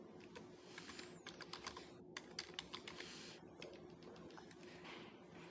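C# code is typed on a computer keyboard in quick, soft, close clicking keystrokes with brief pauses, quiet and steady throughout.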